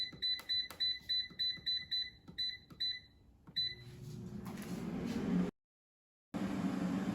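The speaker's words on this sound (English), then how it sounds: "Now the air fryer is done cooking" An air fryer finishes its cooking cycle with a rapid series of high electronic beeps, repeated in short bursts for about three seconds. A rising whirring fan hum follows and cuts out abruptly before resuming.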